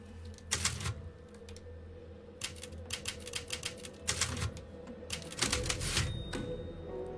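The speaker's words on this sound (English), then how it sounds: "The typewriter, yes." A typewriter in the Resident Evil demo video game clacks in quick bursts of keystrokes, with three clusters of sharp, rapid taps separated by short pauses.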